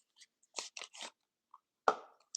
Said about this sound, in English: Don't chew on my stuff